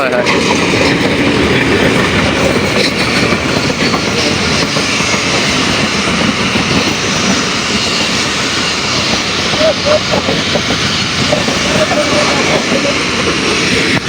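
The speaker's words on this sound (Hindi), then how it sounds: "ये देखें यहाँ पे अभी ट्रेन भी आ चुकी है, चेक करें।" A train arrives at a station with a loud, continuous rumbling roar that fills the whole stretch, with voices partly buried in the noise.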